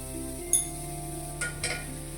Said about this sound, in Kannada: ಕಟ್ ಮಾಡಿರೋ ಹಾಗಲಕಾಯಿನ ಇದರಲ್ಲಿ ಹಾಕ್ತಾ ಇದ್ದೀನಿ